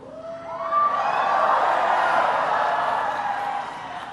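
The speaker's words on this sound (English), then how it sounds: "It's an amazing crowd." A rally crowd at the March for Life cheers and whoops in a sustained swell, moderately loud and somewhat distant, rising quickly and fading after a few seconds.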